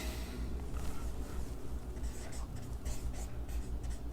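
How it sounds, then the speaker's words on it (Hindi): Chalk or marker scratches in short strokes while someone writes on a board during a lesson, faint and close, with scattered quiet speech underneath. "चलो लिखते हैं, हर्षिता,"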